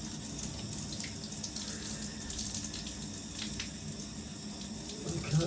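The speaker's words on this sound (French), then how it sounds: "tu rinces comme d'habitude, tu rinces bien" Steady running water from a tap rinses hair at a sink during a gentle wash after a hair transplant, a continuous close splashing flow with small spatters and no voices.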